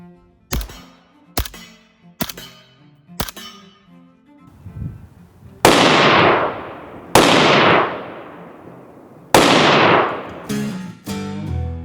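A suppressed gun fires supersonic ammunition: four sharp cracks, then four louder, longer reports that each ring out before fading. The shots are close and loud, with short pauses between them.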